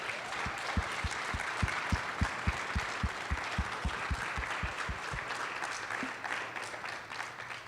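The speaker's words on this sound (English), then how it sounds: "if we can give her a round of applause, even though she's not here" Conference audience applauds a departed colleague, a steady broadband wash of many hands clapping throughout, with a regular low thumping pulse underneath for most of the stretch.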